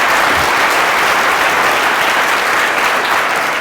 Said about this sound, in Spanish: Fuertes aplausos a la palabra de nuestro Señor